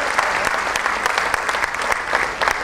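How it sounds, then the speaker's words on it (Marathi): An awards-ceremony audience claps in sustained, dense applause, loud and close, with no pause through the short burst. "जोरात टाळ्या वाजू द्या."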